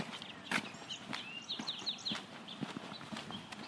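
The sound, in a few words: birds calling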